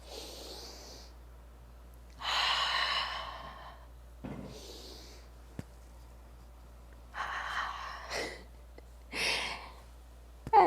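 A yoga class in tabletop position brings slow, audible breaths in and out through the nose, several separate airy inhales and exhales with quiet pauses between them, close and clear.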